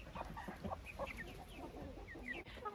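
Hens in a pen cluck in short, scattered bursts while being fed apples as vitamins, several birds close together and fairly quiet over a low background rumble.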